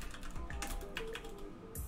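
Quick clatter of keystrokes on a computer keyboard, close and fairly quiet, in an irregular run of taps with a brief pause before a final few presses.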